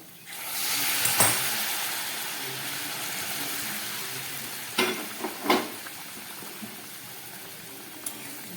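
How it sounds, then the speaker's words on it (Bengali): Warm water goes into a frying rita tangra fish curry, and a loud rush of hissing and bubbling rises and settles into a steady simmer, with a few clanks of a utensil. "এবার এর মধ্যে দিয়ে দিচ্ছি যে উষ্ণ গরম জল"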